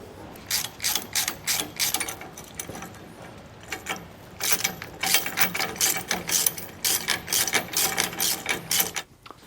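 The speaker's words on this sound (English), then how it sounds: "we can go ahead and start tightening down all of our hardware" A ratchet wrench tightening bolts and nylon lock nuts while fitting a steering stabilizer to a Roadmaster Class A motorhome, loud rapid clicking in repeated bursts with short pauses between strokes.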